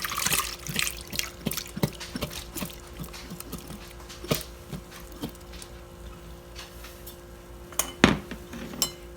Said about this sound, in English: We got our canned Asian yard-long green beans. I'm just going to put that into the pot.